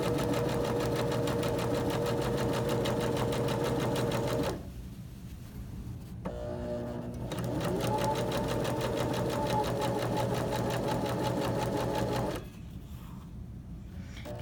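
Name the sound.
sewing machine stitching tote bag fabric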